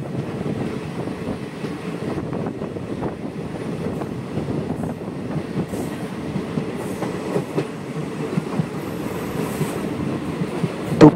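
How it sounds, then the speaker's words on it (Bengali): Passenger train running between rural stations on the Agartala–Sabroom line in Tripura, a steady loud rumble of wheels and carriages with faint clickety-clack throughout, no voices. "দুপুর 12:54 ট্রেন জোলাইবাড়ি রেলওয়ে স্টেশন ছেড়ে তার পরবর্তী গন্তব্য হৈলিক তিশা রেলওয়ে স্টেশনের উদ্দেশ্যে রওনা হলো"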